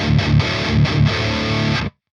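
Electric guitar played through the free Shoeless Drive overdrive plugin, a thick distorted chord riff of repeated chugging strums lasting under two seconds, then cut off into silence.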